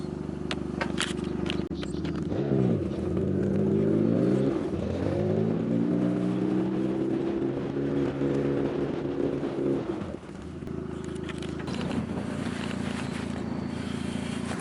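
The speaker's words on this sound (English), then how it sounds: "We're getting ready to go start the pump" A pump engine starts and runs to pump out a farm lagoon, a steady mechanical drone with rising and falling revs, close and continuous.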